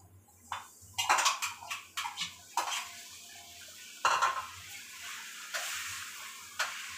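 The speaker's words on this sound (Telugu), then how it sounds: "ఉసిరికాయలు ఇది దీంట్లో వేసుకున్నాము నూనెలో" Pounded amla (Indian gooseberries) frying in oil while being stirred, a soft sizzle under repeated clinks and scrapes of a spoon against the pan, irregular and close.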